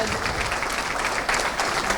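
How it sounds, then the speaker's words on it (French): An audience applauds after a presentation, steady dense clapping filling the whole short stretch at an even, moderately loud level. "Et je vous propose d'applaudir Alice"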